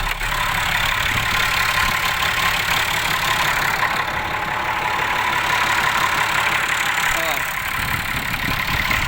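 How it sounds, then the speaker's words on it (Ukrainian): A heavy diesel engine of a 1993 Massey Ferguson 3085 tractor idles with a constant, low, rattling rumble, steady and close, continuing unchanged for the whole stretch. "Двигун, як ви бачите, працює прекрасно."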